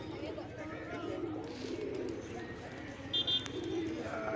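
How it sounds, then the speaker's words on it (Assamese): A flock of pigeons coos softly in the background at a historic site in Sivasagar, under a person talking, with a brief chirp partway through. "এয়া পাৰ চৰাইবিলাক, পাৰ চৰাই।"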